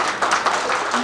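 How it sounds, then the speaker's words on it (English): Applause from a graduation ceremony audience, a dense, steady patter of many hands clapping at close range for about a second. "And this time, we will clap."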